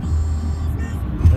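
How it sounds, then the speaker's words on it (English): Steady low road rumble from a car driving along city streets on Christmas Day, continuous and close, with a slight swell near the end. "we're driving to my family's now"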